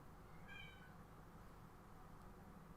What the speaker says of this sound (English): just had a cat meow